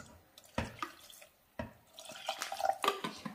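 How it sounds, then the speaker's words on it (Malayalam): Water poured into a pot of green gram dal curry, heard as two brief splashy pours followed by a longer trickling, gurgling flow, close and fairly quiet with no talking. "അല്പം വെള്ളം ഇതിൻ്റെ അകത്ത് ചേർക്കണം"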